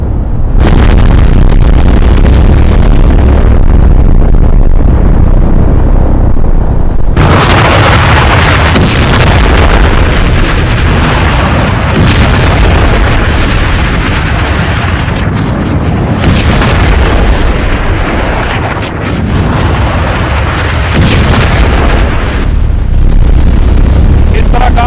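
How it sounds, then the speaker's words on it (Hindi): Simulated bunker buster bomb explosions, loud heavy booms and rumbling blasts that keep going without a break, with several sharp new impacts cutting in, all loud and close and mixed with a voice talking over them. "ये तस्वीर आप देख रहे हैं, बंकर बस्टर बॉम्ब फिर दाग दिया है ट्रंप ने।"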